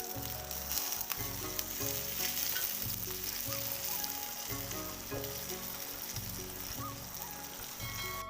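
Grated ginger and asafoetida sizzling in hot ghee as a tempering for sweet dal, a loud, dense, continuous crackling fry close up with a low repeating hum beneath, no talking.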